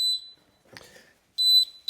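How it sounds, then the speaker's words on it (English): A YoLink water leak sensor sounds its alarm on a floor, giving two loud, high-pitched electronic beeps with a quiet pause between them, the second cut off at the end. "And it immediately beeps."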